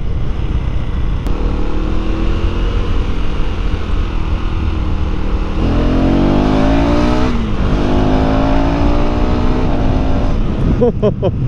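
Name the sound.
KTM Duke 390 motorcycle engine running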